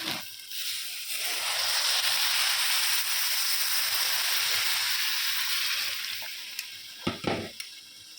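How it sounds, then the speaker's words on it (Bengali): Water poured into a hot biryani pot sets off a loud, broad hissing sizzle that swells after an opening clatter, holds steady, then eases, with a few sharp utensil knocks near the end. "জল দিয়ে দিলাম"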